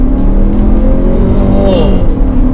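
A Chery Tiggo 8 Pro SUV under throttle, its engine drone rising steadily in pitch with a loud, continuous close-up interior roar, and no talking.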